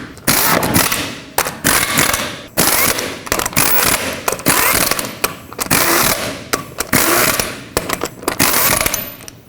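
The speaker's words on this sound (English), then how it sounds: "Start on all of your lug nuts, bottom them out, and then torque them to 140 foot-pounds." Lug nuts are run onto the wheel of a Chevrolet Express with a tool, giving a close, rapid clattering rattle in uneven bursts with brief gaps, no talking.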